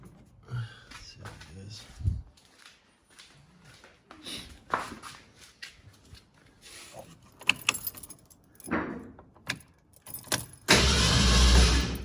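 A 1970 ZC Ford Fairlane engine cranks over on its first start after 20 years, turning loud and steady for about a second at the end after quieter shuffling, clicks and jangling keys, with a person speaking earlier.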